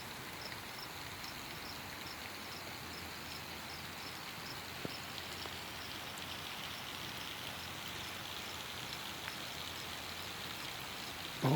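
Heavy rain falls steadily on a village near Hasilpur in Bahawalpur district, a dense, even hiss of drops on surfaces that stays constant throughout with no voices.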